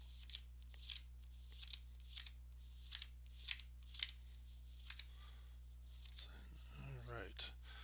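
Playing cards dealt one at a time from a deck for a tabletop basketball game, a steady series of crisp snaps about every half second, close and fairly quiet, with a soft shuffle near the end and no one talking.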